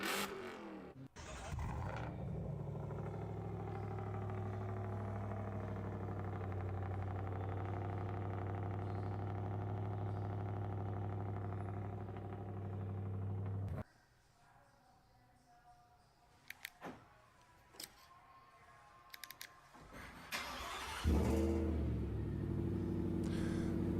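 A supercharged car engine idling with a loud, steady low rumble and hum close by, then cutting off abruptly to near quiet with scattered clicks, before a brief restart near the end.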